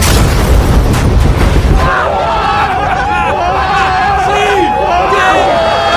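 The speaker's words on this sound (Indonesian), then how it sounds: "Ketika helikopter meledak jatuh" A loud, low rumbling boom opens the scene, then fades into the murmur and shouts of an agitated crowd.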